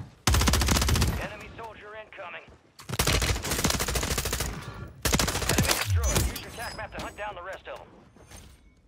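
An M4A1 fires in bursts on Rebirth Island in a Call of Duty match, three loud rapid volleys of close automatic gunfire separated by short pauses, with someone talking in between.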